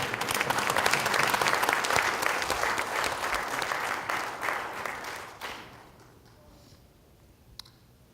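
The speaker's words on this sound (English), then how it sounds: "Let's give a really loud applause to our headline sponsor for the second year," Conference audience applauding a headline sponsor at a ministerial telecom event, loud sustained clapping that tapers off over the last few seconds into near quiet.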